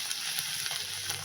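Vegetables fry in a pan for chowmein with tomato, soy and chilli sauces just added, a brief close hiss of sizzling and stirring with no voices.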